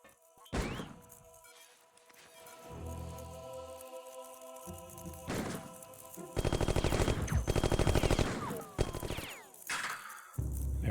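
A zombie fires a gun in the Martian Gothic video game, sharp loud gunshots and a rapid burst of fire punctuating quieter game ambience, with thuds between shots.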